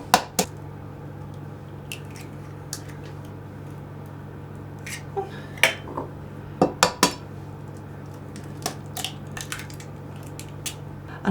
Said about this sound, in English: Next I'm just going to break 2 whole eggs into the jug.